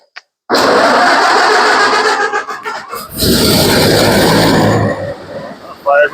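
A four-cylinder engine with the gas on, in neutral and throttle slightly up, cranks and fires into a loud, rough running note close by, wavering in intensity before dropping off near the end.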